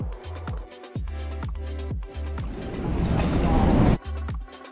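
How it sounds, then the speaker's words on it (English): Train ride toward Guangzhou with rhythmic, repeating thumps and clacks of wheels over rail joints, loud and close, swelling into a denser rushing roar before the beat returns. "We are taking a train to Guangzhou"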